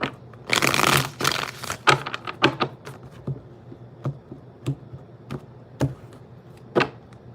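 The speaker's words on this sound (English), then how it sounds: "All right, one more shuffle." A deck of tarot cards is shuffled up close: a dense burst of riffling and flapping at first, then scattered single card snaps and taps spaced out over several seconds.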